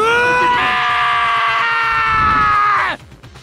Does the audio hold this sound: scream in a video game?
yes